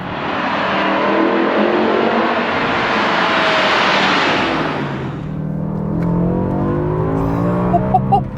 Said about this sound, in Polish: 5-litrowe V10 miotające 507 koni tylko i wyłącznie na tylną oś